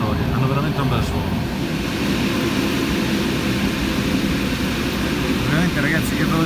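Diesel engines of an ALn 663 railcar drone steadily and loudly from inside the cabin, a continuous rumbling hum that never lets up, with faint voices partly buried beneath it.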